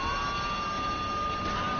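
A police car siren in the video game Grand Theft Auto III, a steady, sustained wail heard faintly and continuously over a constant low rumble.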